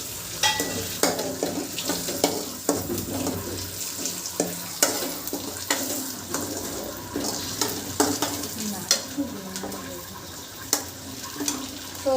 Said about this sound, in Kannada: ಸೊ ಅದಕ್ಕೆ ಕಲಾವೆಲ್ಲೆ ಜೀರಿಗೆ ಮತ್ತೆ ಚಕ್ಕೆ ಹಾಕುತ್ತಾ ಇದ್ದೀನಿ